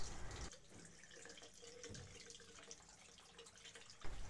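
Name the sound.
tap water running for ear irrigation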